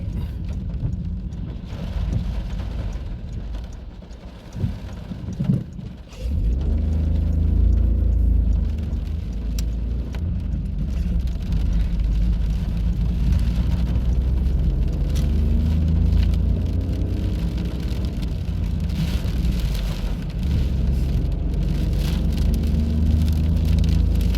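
Steady heavy rain, wind and hail pelting a car from inside while it drives, a dense continuous roar with a brief dip near the start.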